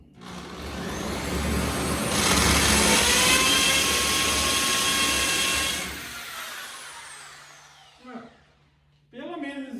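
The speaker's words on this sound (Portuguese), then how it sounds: "Então começa o furo sempre devagarzinho" A drill boring slowly into a wall for a plug, a loud continuous whine with broadband grinding that swells in the middle and then cuts off, followed by a few brief knocks and handling sounds near the end.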